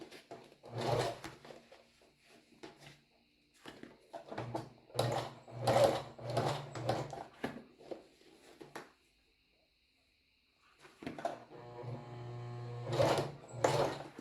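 Domestic sewing machine stitching along a bra seam just above the cup fold, running in several close bursts of whirring with short pauses and a longer silent gap before a final run.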